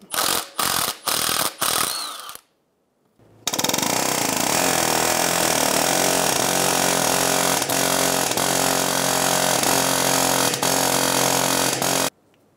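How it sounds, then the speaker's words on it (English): An impact wrench or power tool on a 14 mm socket loosening the bottom bolt of the bearing bracket on a 2007-2011 Toyota Camry, a few short bursts, a brief pause, then a long loud continuous run that stops abruptly. "Using a 14 millimeter socket, remove the bolt on the bottom of the bearing bracket."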